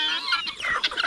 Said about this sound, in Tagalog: Andito ngayon mga manok, pabo,